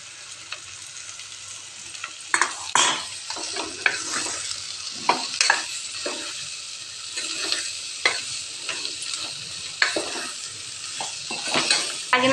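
Chopped ivy gourd (tindora) sizzles steadily in a pan with onion, ginger and garlic while a utensil repeatedly stirs and scrapes against the metal, with no talking.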